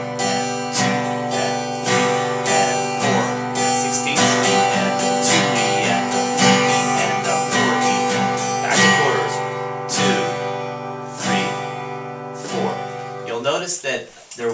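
Guitar strummed in steady eighth-note and sixteenth-note rhythms, dense ringing chords pulsing evenly and loudly throughout before a brief sliding flourish at the end.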